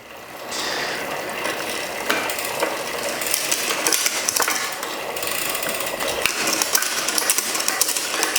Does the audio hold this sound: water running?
no